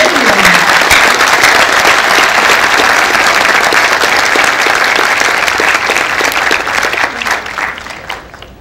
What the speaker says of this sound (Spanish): imaginamos que le van a brindar el más fuerte aplauso al ingeniero Mirko Nicolás Vega Loncharich